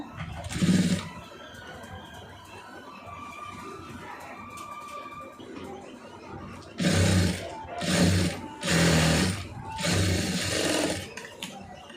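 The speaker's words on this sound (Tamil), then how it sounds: "இப்போ இதில் வந்து படிமான தையல் போட்டுருங்க" A sewing machine stitches a star-shaped neck design on fabric in several loud, close bursts of rapid whirring, each lasting about a second, with quiet pauses between them. A softer stretch of handling noise comes first.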